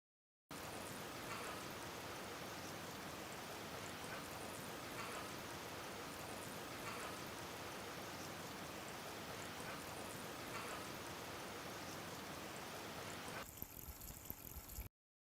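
Water poured over a container of water beads, a steady, even rush of liquid that runs for most of the time, then changes character and cuts off near the end; no one speaks.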